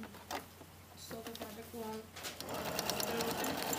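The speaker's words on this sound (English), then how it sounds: "the next thing they said to do was stay stitch the collar edge of the jacket." A sewing machine stay stitching the curved collar edge of a jacket: a steady, close mechanical whir of the needle, starting and stopping in short runs before a longer continuous burst, heard under a person speaking.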